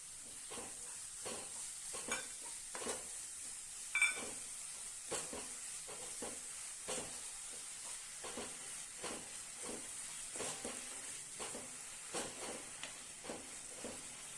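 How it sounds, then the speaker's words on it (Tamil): Carrot halwa with sugar being stirred in a pan on a medium stove, a steady run of scraping strokes with soft sizzling and hissing beneath, fairly quiet and without talk. "ஸ்டவ்வை மீடியமாகவே வச்சுட்டு இப்படியே கைவிடாமல் இப்படியே கிளறி விட்டுட்டே இருங்க"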